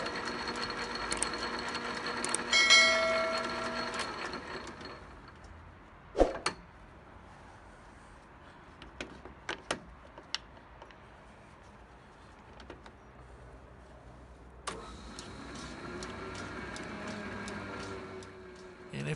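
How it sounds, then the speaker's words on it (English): A newly acquired shop machine's motor runs fairly quietly, a steady mechanical hum with ratcheting, gear-like clicks during the opening seconds, followed by scattered knocks and taps and a brief return of the running sound near the end. "The motor runs pretty quiet, but honestly, I think it's running a little bit slow for what I was expecting."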